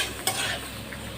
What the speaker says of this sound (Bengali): এই যে টমেটোটা আর আমটা নাড়াচাড়া করে নিই